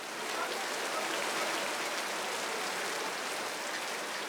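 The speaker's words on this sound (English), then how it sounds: "Although the monsoon season is actually over, there are constant downpours." A heavy monsoon-style downpour in India, dense steady hiss of rain hitting surfaces, even and unbroken throughout, close and enveloping with no voices.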